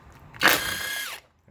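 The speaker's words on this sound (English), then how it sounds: "I got the impact tool, and I show you how easy it is with that" An impact tool zips off a strut nut on a Tesla Model 3 in a single short, high-pitched whirring burst of under a second, loud and close, then stops abruptly.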